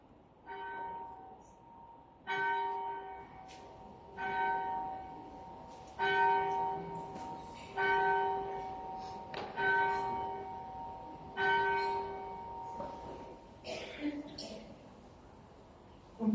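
A church bell at Escombe NG Kerk rings for a Sunday service, struck in slow, evenly spaced peals about every two seconds, each ringing on and decaying, with faint room noise between strikes.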